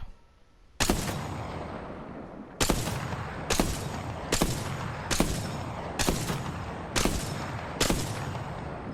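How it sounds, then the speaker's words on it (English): Sniper rifle in Apex Legends fires eight sharp, loud cracks in steady rapid succession after a brief quiet start, each shot ringing out with a short tail. "It's a sniper with a good rate of fire."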